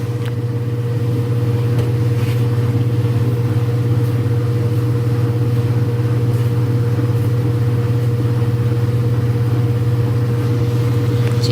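A washing machine runs on a washday before going into spin, making a loud, constant low hum with a steady mid-pitched drone and faint occasional clicks throughout.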